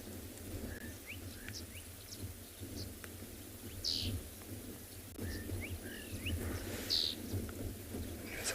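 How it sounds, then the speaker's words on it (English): Faint, distant bird calls, short whistles and chirps scattered over a low rumbling outdoor background on a sunrise safari at Tswalu, South Africa. "Some beautiful bird calls in the distance."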